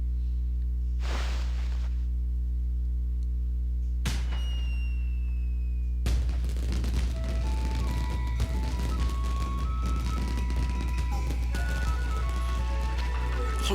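A bomb detonates in the Okami game with a sharp burst, then a long crackling, sparkling cascade of effects and chiming tones that stays loud over a constant low hum of game music.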